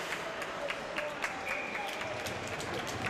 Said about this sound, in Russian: заслуженные аплодисменты раздаются по арене в адрес голкипера белоцерковской команды